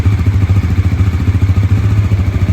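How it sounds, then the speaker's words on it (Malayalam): A 2025 Bajaj Pulsar NS400Z motorcycle engine runs steadily nearby, a loud, even, pulsing idle with a low throbbing rumble and no talking. "വണ്ടി സ്റ്റാർട്ട് ചെയ്യാം. ഇതാണ് എഞ്ചിൻ്റെ സൗണ്ട് വരുന്നത്."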